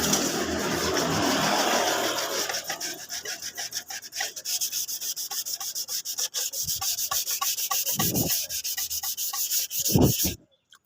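Hand sanding of the painted body panel on a 2010 Honda Vario motorbike, a steady close scraping rub with rhythmic strokes running throughout, ending in a few sharp knocks.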